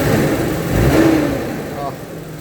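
A vehicle engine that has been hard to start catches quickly and revs up once, loud and close, with someone talking over it.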